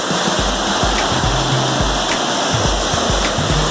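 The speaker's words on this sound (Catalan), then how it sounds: "aquí teniu la cascada una mica lluny" Distant waterfall at Llanures de la Larri, a loud continuous rushing wash of water with low gusty rumbles, steady from start to end and no talking.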